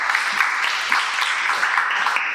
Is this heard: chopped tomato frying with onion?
no